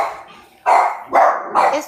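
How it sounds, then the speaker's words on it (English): A dog outside barks three times in a row, each bark loud and clear and spaced about half a second apart. "the dog's outside barking"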